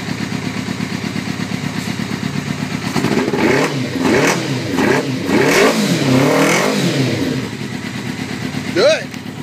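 A 600cc Tony Kart fitted with a Suzuki GSXR motorcycle engine idles loudly nearby, then revs in several rising and falling bursts, with people talking over it.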